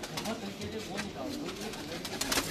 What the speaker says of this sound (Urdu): یہ نیلے کبوتر۔